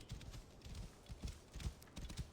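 Horse hooves clip-clop in Assassin's Creed Origins, a quick irregular run of close hoofbeats that comes in clustered bursts as the horse moves at pace.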